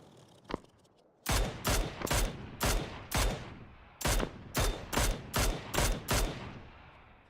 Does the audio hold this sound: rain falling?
no